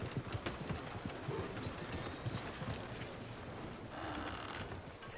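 Horse hooves clip-clopping steadily in Red Dead Redemption 2, a quiet continuous rhythmic patter of hoofbeats with faint mechanical creaks underneath.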